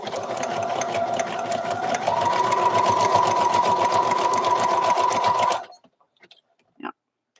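A sewing machine runs a narrow zigzag embroidery stitch at 0.3 length and 5 width, a loud fast steady whir and rapid needle clatter that picks up slightly midway, then stops abruptly, followed by a few faint clicks.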